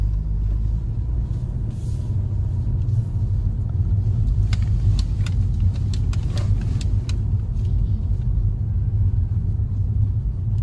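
A 2022 Honda HR-V 1.5 Turbo RS, heard from inside, accelerating hard on kickdown: a steady, loud low engine and road rumble runs throughout with no talking.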